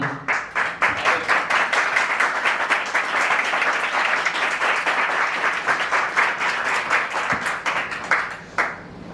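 An audience applauds a speaker at a company promotion event for an industrial group, with loud, sustained clapping filling the room for about nine seconds and a brief dip near the end.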